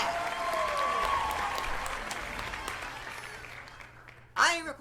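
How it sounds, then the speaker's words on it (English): A studio audience on a podcast applauds to mark International Podcasting Day, a dense wash of claps that fills the first four seconds and slowly thins out before a voice breaks in at the very end. "Can we get a round of applause for that?"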